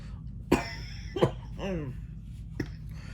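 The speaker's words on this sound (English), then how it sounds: "Excuse my cough, y'all." Several short, sharp coughs close by, spaced irregularly, with a hoarse throaty rasp between them over a faint background hum.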